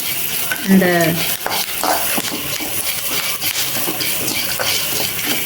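Curry leaves crackle and sizzle hard in hot oil in a pan for crab gravy, a dense, close spitting hiss running throughout with a stirring scrape near the start.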